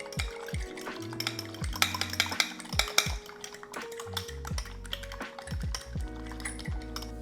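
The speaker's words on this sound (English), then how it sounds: "For any dredge, you first need to beat an egg. Give it a good whisk." Egg being beaten with a whisk for an egg wash before dredging chicken: quick, steady clinking strokes against the bowl, close and fairly loud with no voices.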